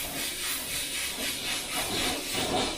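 An airbrush sprays a light dusting of 2K clear coat paint over a 32-inch LED TV, giving a steady, close airy hiss that pulses gently without pause.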